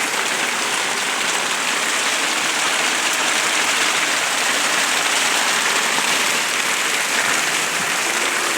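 Rain falling outdoors where a flock of ducks is passing, a loud, dense, continuous hiss of downpour with no breaks and no voices.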